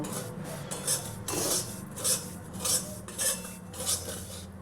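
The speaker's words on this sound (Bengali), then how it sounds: "সুজিটাকে আমি একটু ভালো করে ভেজে নেব।" Semolina is dry-roasted and stirred in a pan, making rhythmic gritty scraping and rubbing strokes about every half second, close and steady, with a faint background hum.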